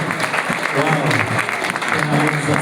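A church congregation claps loudly and continuously in a lively service, dense applause filling the space while voices call out over it.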